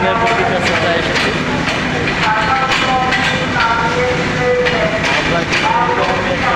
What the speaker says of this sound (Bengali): এয়ারপোর্ট থেকে রেল স্টেশন থেকে আপনাদেরকে ট্রেনটা দেখালাম।